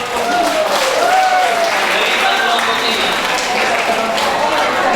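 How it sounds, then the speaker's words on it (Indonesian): An audience at a Catholic parish youth gathering claps in steady sustained applause filling the room, with a voice speaking over the clapping. "Mari kita beri sekali lagi aplaus."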